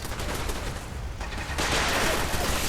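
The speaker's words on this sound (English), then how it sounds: "There are the machine gun turrets." Machine gun turrets firing in Fallout 4 during a settlement ambush: dense, continuous rattling bursts that grow louder and fuller midway, with no talking over them.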